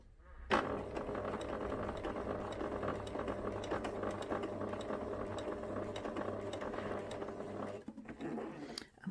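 Sewing machine stitching fabric for a stuffed memory bear, a steady close mechanical whir running for several seconds before a brief slowdown near the end.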